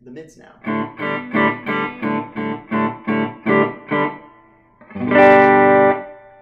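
Overdriven electric guitar through an amp with the mids raised chugs through a run of evenly spaced muted chords, then lets a full, loud chord ring before fading.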